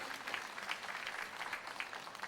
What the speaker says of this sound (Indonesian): Yang percaya kita tepuk tangan yang paling meriah bagi dia.